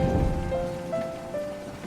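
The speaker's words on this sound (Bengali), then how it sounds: "বাহিরে টিপ টিপ করে বৃষ্টি পড়ছে" Rain falling as a cartoon sound effect on a dark night, a steady close patter with low rumbling underneath and a faint tonal hum, no voices.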